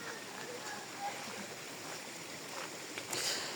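Steady broadband rush of a mountain waterfall on the Triund trek in the Himachal hills near Dharamshala, a continuous hiss of falling water heard close by with no pause.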